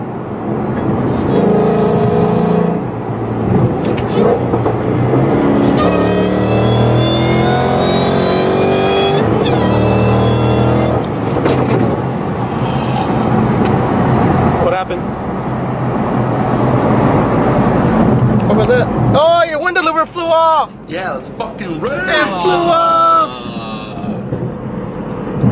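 A 2016 Mustang GT fitted with a Whipple supercharger revs and accelerates, a loud rising supercharger whine riding over the engine's roar, with shifting pitch sweeps near the end.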